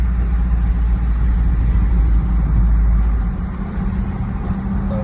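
A 2020 Dodge Durango's exhaust gives a deep, low steady rumble heard from inside the cabin while driving, loud and continuous, easing slightly in the last seconds.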